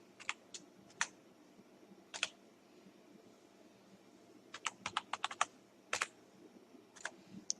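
Someone types on a computer keyboard in short bursts of crisp key clicks, a few isolated presses and then a quicker cluster, close and fairly quiet, with no voices.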